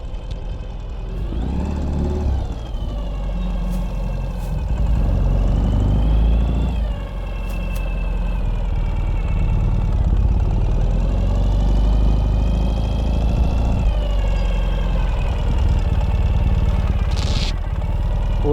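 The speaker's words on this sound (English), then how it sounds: "we'll shift the gears. Up shifting and down shifting this way." A 2018 Ural Gear Up sidecar motorcycle engine runs continuously up close, with its low rumble swelling and dipping slightly as gears are shifted up and down.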